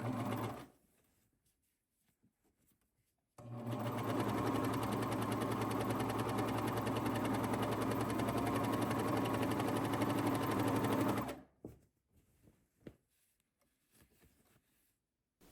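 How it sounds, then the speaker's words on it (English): Sewing machine running steadily for about eight seconds while stitching a pocket onto a shirt dress, a continuous loud motor whir between quiet pauses with small handling clicks after it stops. "I'm going to go in a couple of stitches and then turn it straight."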